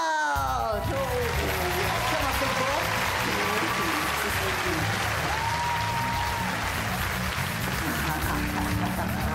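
Comedy show crowd at a Joe Pasquale live performance gives a big round of applause, a loud, dense and sustained clapping with cheers over music, holding steady for the whole stretch.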